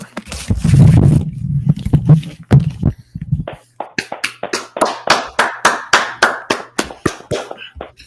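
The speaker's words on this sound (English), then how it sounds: "Let's clap it up." Audience at an Israelite School gathering claps in a steady, rhythmic beat, loud and close, following a few seconds of voices and mixed noise at the start.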